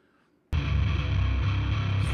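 A thick, gritty distorted bass tone from a multitrack recording kicks in suddenly after a moment of near silence and sustains loudly with a dense, growling low end.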